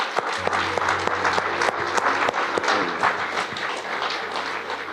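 A church congregation bursts into sustained, dense applause during a sermon, with many hands clapping steadily and close for several seconds.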